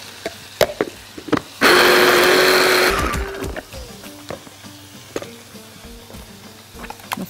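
Roasted zucchini is minced in a blender in a loud burst lasting just over a second, which then winds down, framed by close knocks and clatter of the jar and lid before and after.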